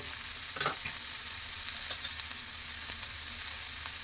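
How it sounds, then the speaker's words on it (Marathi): Chopped tomatoes sauté in a pan with a soft, steady sizzle, faint and even throughout, with a couple of light stirring touches and no talking. "टॅमॅटो चांगला परतून घेतला की आपण त्यात सगळे मसाले घालू"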